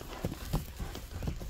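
Horse hooves clip-clop at a Kyrgyz horse event tied to the ulak game, a series of uneven thudding steps at moderate distance against a low outdoor background.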